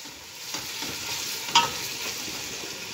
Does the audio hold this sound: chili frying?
yes